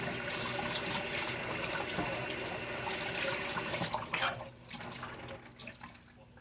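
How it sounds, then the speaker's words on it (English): Tap water runs steadily into a kitchen sink while hands are washed clean of raw egg during sugar cookie dough prep, a continuous broadband splash that thins and turns more trickly toward the end. "Washing my hands because I hate having egg on my hands."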